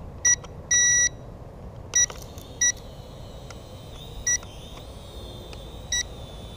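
A generic DJI Mavic Pro clone drone gives short, high electronic beeps at irregular intervals, singles and a longer double tone, clear over a quiet room background.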